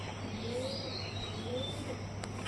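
Small birds chirp inside a cage, with a few faint, high, scattered calls over a steady low hum and background noise.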